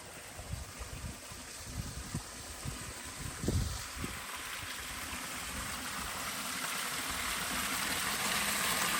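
Water pours out of a flooded pond beside reeds as a steady, close rushing wash. A few soft thumps and footsteps sound early on, then the flow carries on alone and grows slightly louder.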